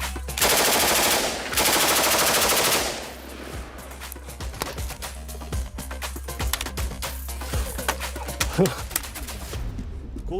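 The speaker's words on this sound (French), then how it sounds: "Une mitrailleuse." Machine gun at a front-line weapons test in Ukraine fires one loud, rapid sustained burst of about three seconds, followed by quieter scattered clatter and handling noises.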